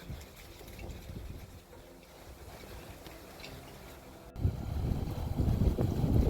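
Strong gusting wind buffets the microphone, a steady low roar that swells louder near the end, with no voices.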